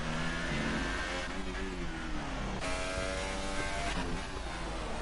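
F3 car in a racing video game lapping the Singapore street circuit, its engine revving hard with repeated rising pitch sweeps and abrupt drops at gear changes, steady and fairly quiet, no talking.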